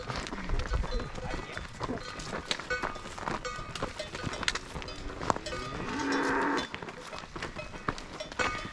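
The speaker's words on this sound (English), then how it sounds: "Don't mess with the cows." Cows moo along a mountain running trail near Nice on the Côte d'Azur, with footsteps, cowbells and a runner's movement filling the background.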